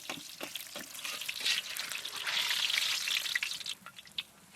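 Whole cumin and bay leaves hit hot oil for a Bengali fish kalia tempering, giving a loud, close, steady sizzle and crackle that swells over a few seconds, with scattered sharp pops and stirring clatter.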